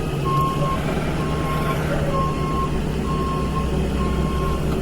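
A Class B school bus sounds its reversing alarm during a pre-trip inspection: evenly spaced beeps, about one per second, repeat over a loud idling engine rumble.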